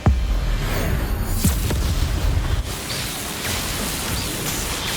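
A spell blast goes off in Hogwarts Legacy during a magical duel: a sharp booming burst opens, then another thump follows, fading into a rumbling, noisy wash that quietens after a couple of seconds, with no voices.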